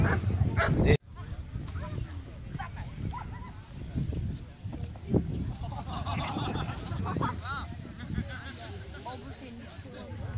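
Police dog barking during a Danish police dog association demonstration outdoors, with the barks, yips and whines mixed under continuous crowd chatter and a commentator's voice over about ten seconds.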